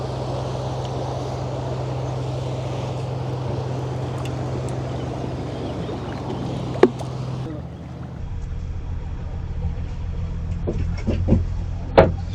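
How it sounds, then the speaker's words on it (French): A canal boat on the Canal du Nord in Picardie pulls out of a lock, its engine a steady low drone with broadband wash and wind, a brief thump midway, and the engine note shifting lower and fuller near the end. "Et donc là, le bateau sort"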